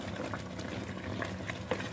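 Penne pasta with chicken breast, spinach and white sauce boiling in a pot, a soft continuous low bubbling with faint scattered pops, fairly quiet and close.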